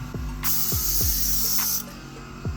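An airbrush sprays paint onto a 3D printed Hulk model, giving a steady loud hiss for about a second and a half between short mechanical clicks of the trigger, with no voices.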